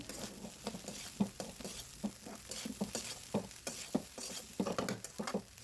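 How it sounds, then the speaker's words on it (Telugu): Fried rice with garam masala stirred hard over a high flame in a roadside-cart style, a spatula scraping and clacking in a quick irregular rhythm over a steady close sizzle. "హై ఫ్లేమ్లో పెట్టుకొని బాగా కలిపేసుకోవాలి"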